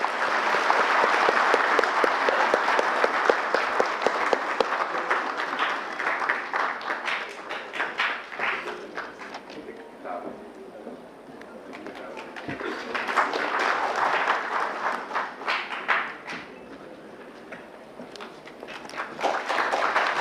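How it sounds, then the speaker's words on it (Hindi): An audience at an official event welcoming guests breaks into loud, sustained applause, many hands clapping in waves that dip, swell again, and keep going for a long stretch. "जोरदार तालियों के साथ उनका स्वागत करें।"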